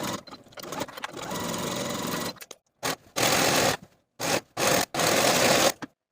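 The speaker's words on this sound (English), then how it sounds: "Sew this crotch seam with a 3/8 inch seam allowance and then finish your seams" A sewing machine stitches a pant crotch seam in several short, steady runs of whirring with abrupt stops between them, close and alone.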